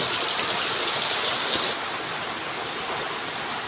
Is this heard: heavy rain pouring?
yes